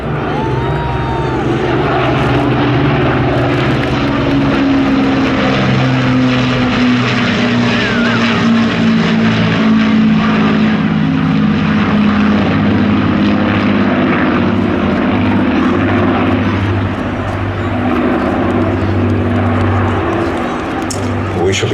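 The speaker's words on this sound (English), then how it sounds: "Give them a big wave as they fly past." A Battle of Britain Memorial Flight formation of an Avro Lancaster, Spitfires and a Hurricane drones past at the Midlands Air Festival. The loud, sustained piston-propeller roar slowly shifts in pitch, with announcer talk over the top.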